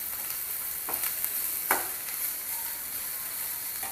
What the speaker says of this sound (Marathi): भाज्या आहेत त्या आपल्याला जास्त शिजवायच्या नाही. परतून घ्यायच्यात फक्त 2 मिनटं.